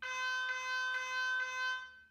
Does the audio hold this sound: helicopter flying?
no